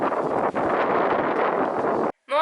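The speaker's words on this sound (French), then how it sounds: "C'est un truc de malade le vent qu'il y a." Strong, cold wind sweeps across an outdoor clay tennis court during a match, roaring and buffeting the microphone in a steady, loud rush that dips briefly, then cuts out near the end before a short tone.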